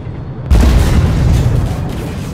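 An enemy tank shell slams into the player's M1A2C Abrams in the Armored Warfare game: a sudden loud boom after a brief quiet lead-in, then a heavy rumbling roar that carries on to the end.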